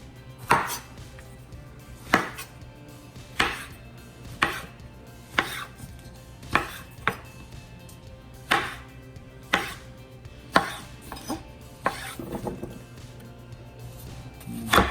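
An onion diced into small cubes with a knife on a board, steady loud chops about once a second, quickening into a flurry of rapid cuts near the end, no speech.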